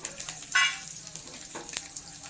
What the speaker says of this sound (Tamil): கடுகு எண்ணெய் நல்லா காஞ்சிடுச்சு கடுகு தூள் போட்டுக்கலாம்